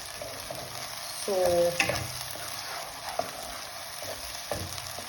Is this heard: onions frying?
yes